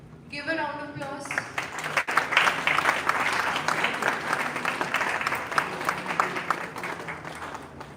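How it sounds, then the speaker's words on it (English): A conference audience breaks into a sustained round of applause, dense clapping filling the room for several seconds, with a brief spoken voice at the very start. "Give a round of applause"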